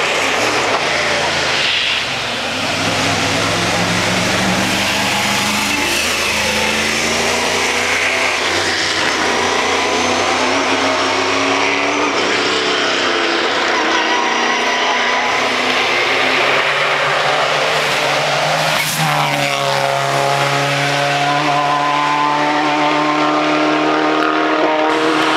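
A race car engine at the Climb to the Clouds hill climb drones and revs with rising and shifting pitch over a long stretch, loud and continuous with no talk.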